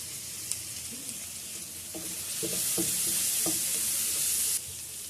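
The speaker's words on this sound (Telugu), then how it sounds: "ఆనియన్ కూడా వేసేస్తున్నాను. కాసేపు ఫ్రై చేసుకుందాం." Onion, green chili, fennel, cinnamon and curry leaves fry in a pan for pepper chicken fry, giving a steady close sizzle with a few soft stirring knocks that swells louder midway.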